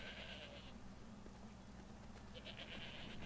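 A goat bleats in the Skyrim Special Edition video game, two nasal wavering cries, one at the start and one near the end, over a low steady game hum.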